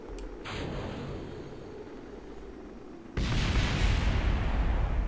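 Rocket boosters colliding during flight in Kerbal Space Program: a steady roaring engine rumble runs for several seconds, then a sudden louder burst of harsh, broadband crackling noise takes over and continues loudly to the end.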